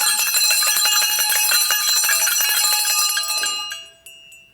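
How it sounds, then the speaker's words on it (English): Many bells ring together in a loud, shimmering clangor that fades away at the end, with a last faint chime lingering. "soon it rang loudly, as did every bell in the house"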